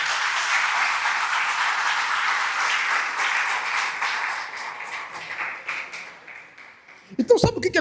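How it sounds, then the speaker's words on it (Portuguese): A church congregation breaks into strong applause, a dense sustained clapping that gradually fades over several seconds before a voice briefly cuts in near the end. "Dá um forte aplauso ao Senhor Jesus."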